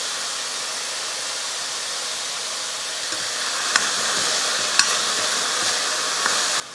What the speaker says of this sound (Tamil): உப்பு சேர்த்ததுக்கப்புறம் 1 நிமிஷம் நல்லா வதக்கிக்கலாம்.